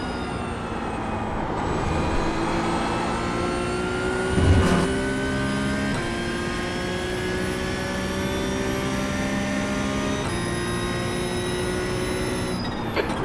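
Porsche 992.1 GT3 Cup racing around Watkins Glen in iRacing, its engine droning steadily at high revs with harmonic whine, shifting pitch through gear changes and a brief bump mid-lap, loud and continuous with no talking.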